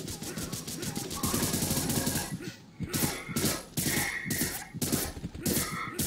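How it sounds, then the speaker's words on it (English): Rapid bursts of video game gunfire crackle in repeated volleys, loud and close, with a short lull before the shooting resumes; faint voices sit under the shots. "I think you're shooting at the wrong guy, mate."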